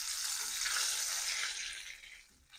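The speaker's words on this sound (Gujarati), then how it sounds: "અડધું તેજનું પત્તું છે, એક તજ છે, બે ઇલાયચી છે જેને તોડીને નાખવાની છે, અને બે મરી અને એક લવિંગ છે, અને એને આપણે સાતડી લઈશું." Whole spices (half a bay leaf, a cinnamon stick, two cracked cardamom pods, two peppercorns and a clove) sautéing in hot oil for a Hyderabadi paneer curry, a close, steady hiss of sizzling that fades toward the end, no voices.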